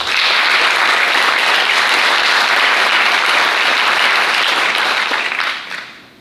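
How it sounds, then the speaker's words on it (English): A conference scholar athlete ceremony crowd applauds a student heading to Michigan Tech on a basketball scholarship, loud steady clapping that holds for about five seconds before fading out. "Let's give Isabella a round of applause,"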